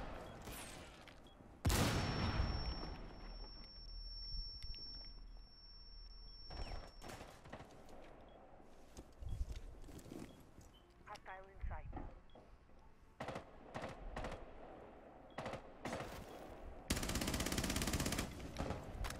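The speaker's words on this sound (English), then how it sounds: "I don't even know what I was shooting at." Gunfire in Rainbow Six Siege: bursts and single shots crack out across the round, with a loud sustained barrage at the end, mixed with a long high whine and occasional talk.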